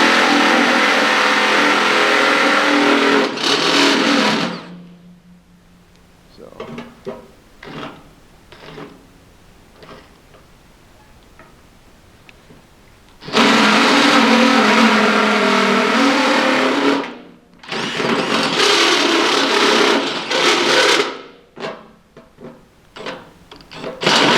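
A power drill with a step bit cutting holes in a Harbor Freight parts washer, running in loud sustained bursts with a quiet pause full of small clicks and taps between them.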